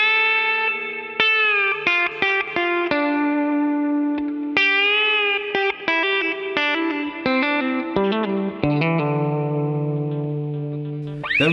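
Electric guitar playing the opening of a rock guitar solo, a run of clean, bright picked notes with slides and bends through an effects unit with light chorus and echo, steady and alone with no talk.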